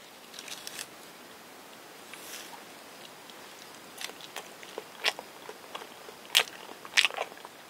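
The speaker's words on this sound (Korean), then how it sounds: "바나나 먹방." Someone eats a banana close to the microphone, with faint, soft bites and wet chewing and smacking sounds that grow slightly louder toward the end.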